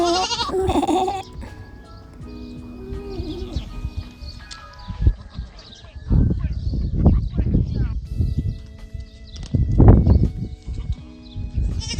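Goats and sheep bleat on a farm, several calls rising over a person's voice that talks and imitates the bleat, with rustling and handling noise between calls.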